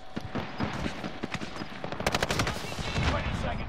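Rapid automatic gunfire bursts in a Call of Duty: Modern Warfare battle, dense crackling volleys building toward a heavier cluster of shots, with faint game voices underneath.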